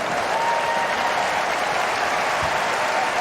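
A tennis crowd at the US Open gives loud, sustained applause during a doubles final. The clapping is a continuous, dense roar that fills the stadium.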